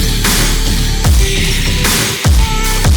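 A punchy drum loop for a future bass drop, with heavy kicks landing about once a second over a dense, bright synth texture. Loud and continuous, with no voices.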